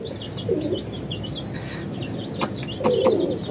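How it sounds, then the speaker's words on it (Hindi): Chicks eating, with soft cheeping and clucking calls scattered over a busy background, a few sharp pecking clicks, and louder chirps near the start and end. "देखो वो मोहित भाई के पास कैसे खा रहे चूजा"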